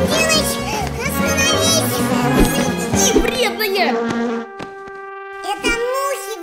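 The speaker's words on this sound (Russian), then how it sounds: "Это мухи вредные" Flies buzz in a Russian animated cartoon, a busy insect drone layered over music and sound effects, with a child-like voice speaking briefly, then dropping out near the end before resuming.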